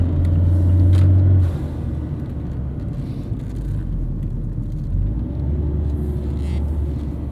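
Engine of a 2017 Fiat 124 Spider driving around town at low RPM, a steady low rumble with road noise, a louder drone in the first second and a half before settling into an even cruise.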